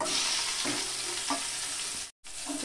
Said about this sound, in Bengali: পেঁয়াজ কুচিটা দিয়ে একটু নাড়াচাড়া দিতে হবে।